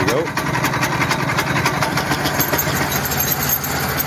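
Honda 13 hp engine on a Logic flail mower running steadily just after a pull-cord start with choke, a loud continuous mid-pitched drone with a fast rhythmic pulse, close by and unbroken throughout.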